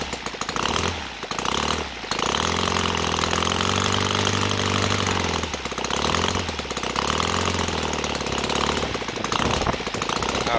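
An OS FT 300 model airplane engine converted to gasoline with CH ignition, taxiing with a loud buzzing putter that rises and falls in speed, with short throttle dips near the start and middle.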